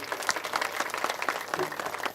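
Audience clapping at a kirtan programme, a steady dense patter of many hands applauding together for the whole stretch, moderately loud and even.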